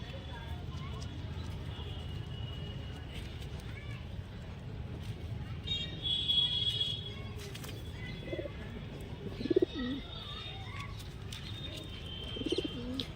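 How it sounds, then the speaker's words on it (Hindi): Soft cooing of Punjabi pigeons rises now and then over a low, busy background with faint chirps and distant voices. "पंजाबी कबूतर देखने में तो मस्त लगते हैं"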